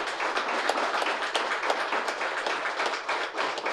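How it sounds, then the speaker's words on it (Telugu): An audience clapping loudly at a meditation center's anniversary gathering, steady dense applause from many hands throughout, fairly close, with no talk over it. "గట్టిగా చప్పట్లు కొడదాం, గట్టిగా."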